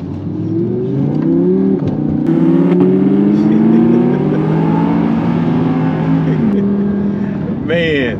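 A 2017 Audi R8 supercar with the MK2 body, its engine revving loud and close, pitch climbing and holding high before dropping off, then a short rising whine at the end.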